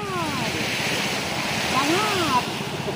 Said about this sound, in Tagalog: May dagat pala dito.